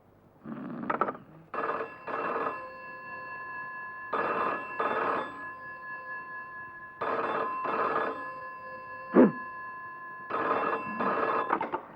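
A telephone rings in repeated double bursts in a Hindi film scene, steady and fairly loud, with short pauses between each pair of rings and one sharp knock partway through.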